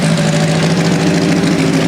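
1100 cc Fiat 128 engine idling, a steady buzzing hum with a constant tone, close and uninterrupted, no voices.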